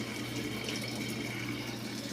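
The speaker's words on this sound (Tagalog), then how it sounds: "naririnig nyo, lumabas na yung tubig nitong washing machine" Water draining out of a Samsung inverter automatic washing machine, a steady quiet rushing flow with a faint hum, continuous and close.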